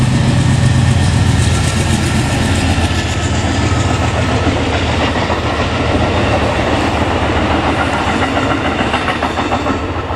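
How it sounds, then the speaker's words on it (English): A train rolls past on nearby railroad tracks, with a loud, steady rumble and a rhythmic clickety-clack from the wagons that carries on without a break for about ten seconds. "Oh, here comes the train, guys."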